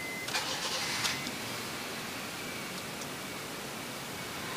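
A 2010 Honda Jazz GE8 RS engine cranks briefly and catches, then settles into a steady, even idle hum heard close up with no talking.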